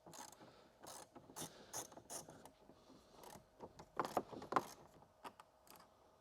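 Ratchet clicks ring out as 10mm bolts are backed out of a Toyota Tacoma tweeter mount: quick, light pawl ticks in short irregular runs, close and fairly quiet, with no voices.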